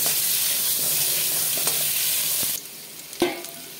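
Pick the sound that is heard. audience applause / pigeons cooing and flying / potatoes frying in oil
potatoes frying in oil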